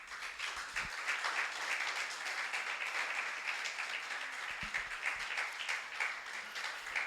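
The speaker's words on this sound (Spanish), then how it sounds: "¿Le damos un aplauso al Señor?" A church congregation claps together in sustained, fairly even applause for several seconds, heard from a moderate distance with no voices over it.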